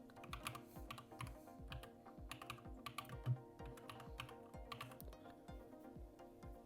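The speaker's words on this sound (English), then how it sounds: "I'm just typing this." Quiet, rapid keystrokes clatter on a computer keyboard in irregular bursts over a soft tonal hum.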